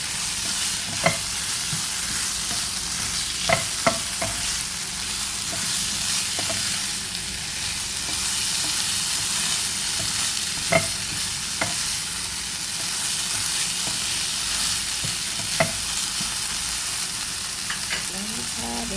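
Minced pork stir-fried with basil and red chilies sizzles loudly and steadily in a pan, with a spatula knocking and scraping the pan every few seconds.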